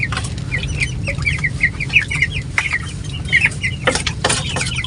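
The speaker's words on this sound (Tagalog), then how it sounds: "alagang manok." Several 45-day-old chickens cluck and chatter in short repeated calls over a steady low hum, with a couple of louder sharp bursts near the end.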